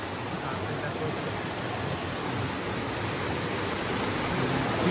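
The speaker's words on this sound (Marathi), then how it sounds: "पाण्याचा प्रवाह जाम आहे." Strong stream water rushes steadily and loudly in a continuous broadband wash that builds slightly toward the end, with no voices over it.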